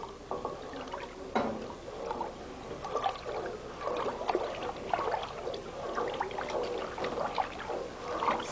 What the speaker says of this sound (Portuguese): Mexemos durante uns 5 minutos.